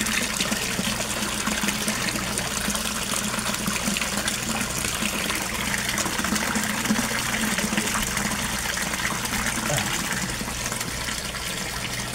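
Resun aerator pump, 19 watts, bubbling and churning water in a koi fish tank, a steady loud wash of bubbling and splashing that runs continuously without pause, with no talking.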